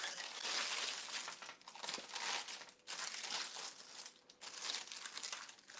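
Parchment paper crinkles and crackles continuously while baked peanut butter maple granola is broken apart on it, close and dense with brief pauses.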